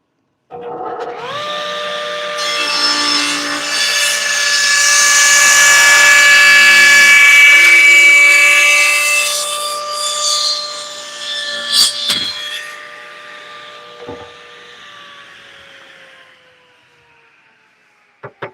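A power saw runs up loud and steady with a bright whine as it cuts a wooden trim piece, then winds down and trails off, with a few sharp knocks near the end.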